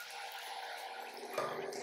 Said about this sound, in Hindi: और अब हम यहाँ पर ऐड करेंगे पानी।